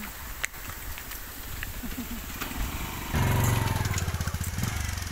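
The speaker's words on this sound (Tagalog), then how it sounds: "nauna na yung motor" A motorcycle engine rumbles up close on a road near a hanging bridge, rising sharply midway into a loud, steady throb as it passes, with faint voices in the background.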